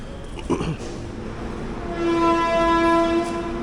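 The 16592 Hampi Express pulls out of Bellary station in the dark, a steady low rumble of rolling carriages with a sustained horn tone sounding twice near the end.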